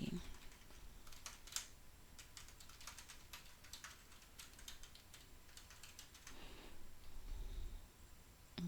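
Quiet keyboard typing on a computer, a soft, fairly steady patter of key taps at close range, with no voices.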